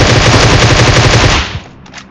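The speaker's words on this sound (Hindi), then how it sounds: "अब वो क्या है यार, गोलियां चला चला" Rapid automatic gunfire bursts from a video game shooting mode against bots, loud and close in a dense continuous rattle that cuts off after about a second and a half, leaving a short fading tail.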